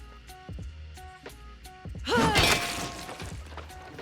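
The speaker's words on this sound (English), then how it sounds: "Let's have a look at tossing a pitchfork together with Assailant." A heavy whoosh and crunchy impact as a pitchfork is hurled in Hunt: Showdown, amid game sound effects and short thuds, with a metallic clatter in the middle.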